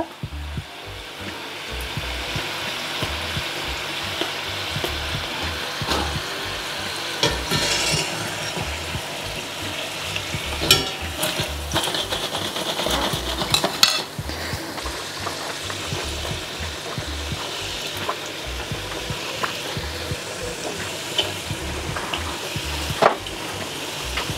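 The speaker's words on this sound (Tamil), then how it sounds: "இது ஒரு எட்டு ஒன்பது நிமிஷம் பொறிச்சிருக்கிறேன் நான் மிதமான சூட்டில்" Chicken and potato patties frying in oil over medium heat, giving a steady, fairly quiet sizzle with scattered crackles and light clinks, and no voices.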